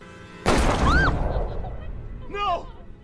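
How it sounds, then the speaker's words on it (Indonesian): A single loud gunshot from a film cracks out close and sharp, followed by a decaying echo, with brief vocal cries or squeals around it. "ia ditembak di tempat"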